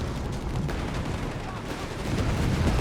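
Dense, rumbling battlefield bombardment with mortar fire in Company of Heroes 3, with overlapping booming impacts and continuous low din, under a commentator's voice.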